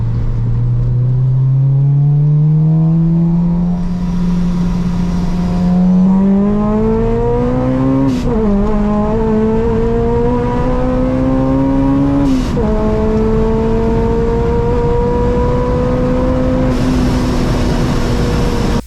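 Turbocharged widebody Acura RSX, boosted to around 350 wheel horsepower, driving with a loud continuous engine note that climbs steadily through the gears, with two sharp shift breaks partway through and a steady drone in between.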